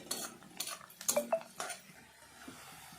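Onions and turmeric stirred in a cooking pot for an Assamese local chicken curry, giving a few quick metallic scrapes and clinks in the first second and a half, then fading to near quiet.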